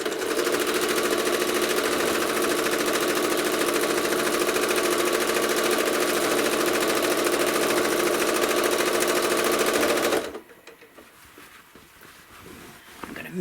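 A sewing machine stitches a quilt in a steady, dense mechanical whir for about ten seconds, loud and close, then stops abruptly, leaving quiet room noise with faint handling sounds.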